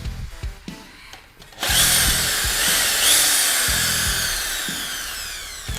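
A power drill bores a pilot hole. After a few quiet handling knocks, a loud, steady high-pitched whine starts and holds close-up until the end, with slight shifts in pitch as the bit bites.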